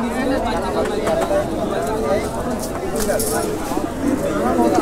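Soft pigeon cooing blends into a busy background of chatter and murmuring voices at a pigeon market in Parulia, Bangladesh, steady and fairly loud throughout.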